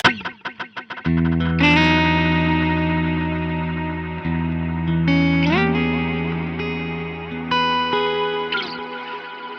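Guitar chords played through a Strymon BigSky MX reverb with impulse and magneto reverbs in series, 1 into 2, ringing out with long shimmering tails; several strummed chords sustain and overlap, loud and alone with no talking.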